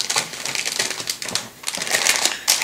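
Crinkly plastic rustling and crackling in quick bursts, close up, as a small plastic bag of King Tiger tank model kit parts is handled and torn open.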